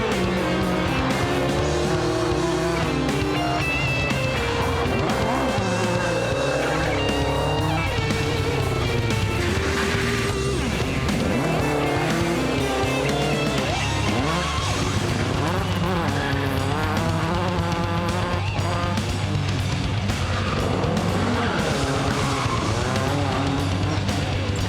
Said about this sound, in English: Watch the power slides and handbrake turns in the little Escort.